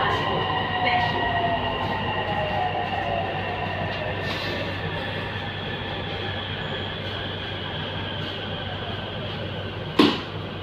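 A J-TREC Sustina S24 EMU on Bangkok's MRT Purple Line at Talad Bang Yai station, with a steady low rumble and a faint high whine, then a sharp clunk near the end.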